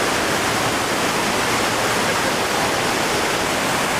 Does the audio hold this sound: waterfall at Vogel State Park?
yes